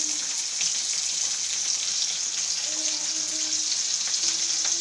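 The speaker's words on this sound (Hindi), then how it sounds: "दूसरी तरफ कढ़ाई में प्याज भून रहे हैं" Onions fry in hot oil with cumin in a kadhai wok, giving a steady close sizzle and crackle that runs throughout, with faint clinks and a brief soft tone in the background.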